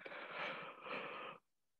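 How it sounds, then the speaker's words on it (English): A single drawn-out human yawn during a slow yoga breathing session, breathy and soft, lasting just over a second before cutting to near silence. "My yawn has probably caused you all to yawn."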